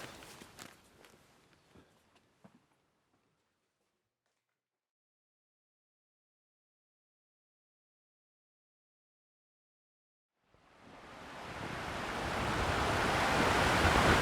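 Wind and surf on the seashore of Jeju Island, Korea: a few soft footsteps at first, then near-silence, then a loud, steady, broadband rush of wind and waves swells up and continues to the end.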